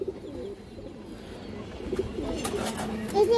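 A pigeon coos softly in low, wavering phrases, close by, with someone talking over it and a few sharper rustles and bumps near the end.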